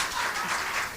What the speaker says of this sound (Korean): 이 박수는 뭘 의미하는지 잘 모르겠네요.